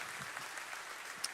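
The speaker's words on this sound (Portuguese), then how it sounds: "Uma salva de palmas para vocês." A church congregation applauds in a brief, steady patter of many hands clapping, fairly soft and continuous, without voices over it.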